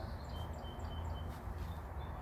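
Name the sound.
birds calling outdoors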